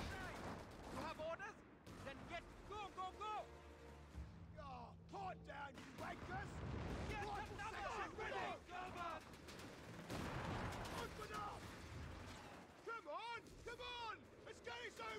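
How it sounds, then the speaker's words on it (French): Machine gun fire and other gunfire ring out in the World War II strategy game Company of Heroes 3 during an Italian campaign battle, with repeated bursts and booms under someone talking in French over game music and effects. "Attention à la mitrailleuse."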